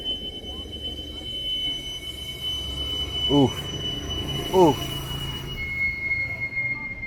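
Metal wheels of a steam-train-style powered trolley squeal on the rails in two sharp, rising bursts over steady street noise, with a brief exclamation from a voice.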